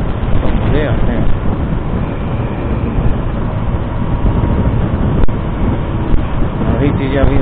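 Wind roars steadily past the microphone while riding an Activa 3G scooter on a road trip, a loud, continuous buffeting rush with no pauses.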